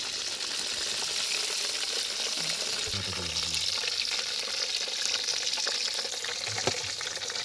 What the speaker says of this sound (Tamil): இப்படியாக ஒரு மீனை பொரிச்சாச்சு